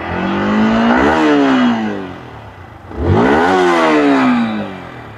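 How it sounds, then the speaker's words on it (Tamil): A Yamaha MT-15 150cc motorcycle revs twice, each burst of exhaust climbing sharply in pitch and then easing back down, loud and close, with a brief lull between the two rises. "MT-15 இன்னொரு ஸ்பெஷல் எக்ஸாஸ்ட் நோட் கேட்போம்."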